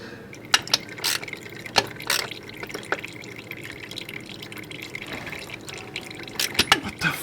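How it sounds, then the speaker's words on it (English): Oil draining from a Jeep XJ, an irregular splattering trickle with scattered drips and small splashes, moderately close, with metallic clinks and no clear talk. "Just drain the oil."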